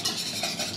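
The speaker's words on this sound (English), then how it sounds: "Whisk them nice." Two eggs being whisked briskly in a medium bowl, a short burst of quick, close scraping and clicking strokes with no voices.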